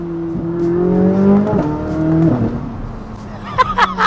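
A Chevrolet Corvette C8 Z06 engine revs hard with rising and falling harmonic tones, loud and close, ending in a few sharp bursts.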